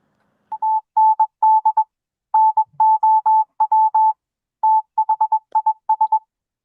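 A telephone dialing sound effect of short, clean beeps at one steady pitch, loud and isolated, tapped out in quick irregular clusters over several seconds.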